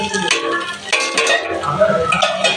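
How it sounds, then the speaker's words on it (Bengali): Chow mein noodles with egg being stirred in a pan, a busy run of scraping and clinking of a utensil against metal over a light sizzle, close and fairly loud. "আর একটু ভালো করে নেড়ে নেবো"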